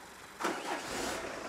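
A car engine catches and revs up in a short burst, a loud rising roar that swells abruptly after a brief quiet moment and holds steady to the end.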